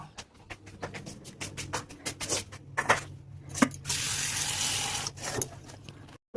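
Freshly picked drumstick flowers are washed by hand: quiet rustling, rubbing and handling, then a burst of running, splashing water before the handling resumes.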